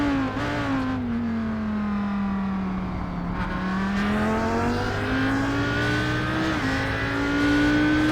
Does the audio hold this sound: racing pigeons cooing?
no